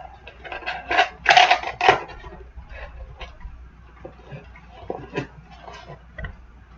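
Cardboard LootCrate box being folded, with a few crisp creasing and rustling bursts close up early on, followed by quieter scattered taps and flaps.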